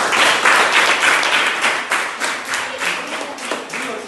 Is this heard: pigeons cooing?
no